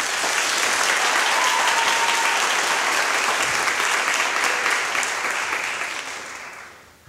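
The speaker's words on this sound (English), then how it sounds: "Let's give them a round of applause." A concert audience at a Pierce College choir performance gives the choir a round of applause. The dense, loud clapping holds steady, then tapers off over the final two seconds.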